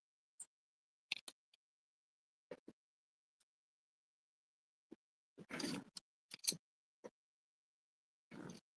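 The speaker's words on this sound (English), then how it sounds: "I'm going to cut these out." Scissors snipping out paper card pieces for a Z-fold card, a few sparse, quiet crisp cuts separated by pauses, with a couple of slightly longer rustling strokes near the end.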